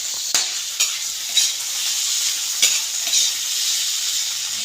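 Tomatoes sizzle steadily in a hot frying pan while a utensil stirs them, with several sharp scraping knocks of the spoon against the pan over the continuous hiss of frying.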